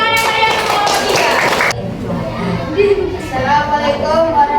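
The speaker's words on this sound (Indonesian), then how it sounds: "Beri tepuk tangan yang meriah untuk kelompok 3." Classroom of students clapping for a presenting group, a loud burst of clapping that cuts off abruptly, followed by students chattering and talking nearby.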